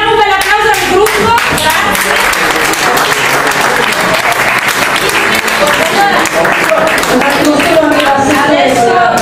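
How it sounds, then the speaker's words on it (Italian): A crowd at a public neighbourhood meeting in Italy applauds a group, loud close clapping with individual hand claps standing out, sustained throughout with some voices mixed in. "Allora facciamo un bel applauso al gruppo"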